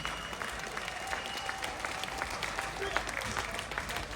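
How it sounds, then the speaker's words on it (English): Crowd at an outdoor protest rally applauding steadily, a dense wash of clapping held at a moderate distance with cheering voices mixed in throughout. "let's have a big round of applause for everyone behind For the Children campaign"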